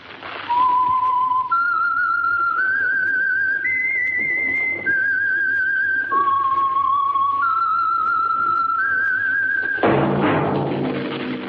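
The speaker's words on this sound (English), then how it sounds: "That whistle is your signal, the Whistler." A clear whistled melody of sustained stepwise notes, loud and close, ending with a brief burst of broadband sound.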